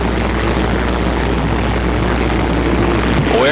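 Super late model stock cars racing at PPMS in 1994, heard as a steady, loud engine drone that holds without pause.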